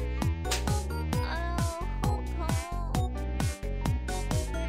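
Mosquito whining in a puzzle video game, a close, loud, wavering tone with rhythmic pulses and steady harmonic buzzing throughout, without speech.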